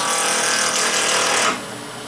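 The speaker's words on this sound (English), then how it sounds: "So let's go ahead and get turning and see what this little piece of wood looks like." A wood lathe spins at about 2,500 RPM as a tool cuts a small wooden bottle stopper blank, a loud rough roaring scrape that abruptly drops to a quieter motor hum.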